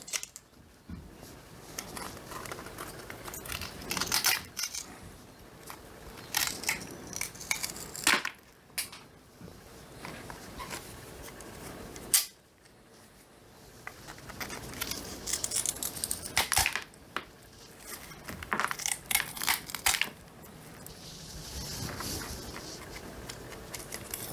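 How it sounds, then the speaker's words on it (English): Charcoal is broken by hand into small chunks for a springtail culture, with scattered brittle cracks, snaps and crumbling clicks coming in irregular bursts between quieter pauses, close and moderately loud, no talking. "You don't need to powderize the charcoal, but you do need to break it down into somewhat small chunks."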